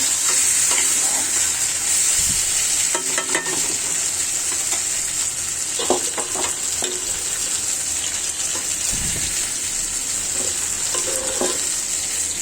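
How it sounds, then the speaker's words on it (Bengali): Chicken pieces frying in oil in a pan for chicken fry, a loud continuous hissing sizzle close up, with scattered scraping stirs and occasional spatters throughout. "এই মাংসগুলো দিয়ে দিচ্ছি তেল লাগিয়ে নিব গায়ে গায়ে"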